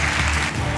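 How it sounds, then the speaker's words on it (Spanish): Audience applause at a live stand-up comedy show in Santiago, a steady dense clapping filling the brief moment at close, even loudness. "Aplauso para él y que pase el marido"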